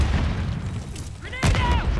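A grenade goes off in a Call of Duty: Modern Warfare 3 team deathmatch, one sharp blast midway with a ringing tail over steady battlefield rumble and chatter.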